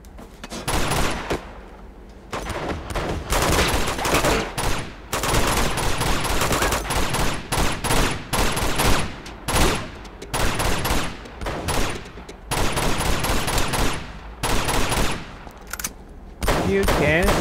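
Gunfire in the action game Uncharted 2: Among Thieves, with rapid loud bursts of automatic and single shots packed closely across the whole stretch, briefly pausing, while a player speaks occasionally over it.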